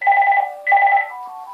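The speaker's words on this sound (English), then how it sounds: "Just a minute, there's the phone." A telephone rings indoors with two loud electronic trills, close by, the second burst fading into a softer lingering tone.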